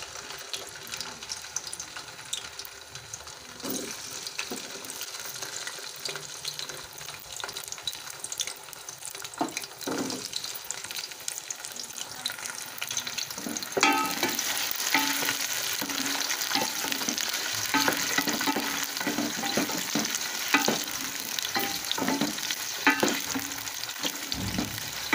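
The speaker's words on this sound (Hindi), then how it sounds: "अब मैं इसमें भिंडी डाल के उसे बिल्कुल ब्राउन करके निकाल लूँगी" Okra sizzles and crackles in hot oil in a home kitchen, a steady frying hiss that grows louder and denser midway, with occasional stirring clatter and no speech.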